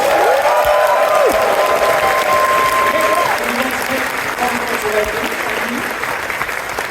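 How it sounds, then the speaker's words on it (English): A large crowd at the ConFuzzled 2023 convention closing ceremony applauds loudly and steadily throughout, a dense wash of clapping with a brief tonal sweep near the start. "A massive round of applause, please"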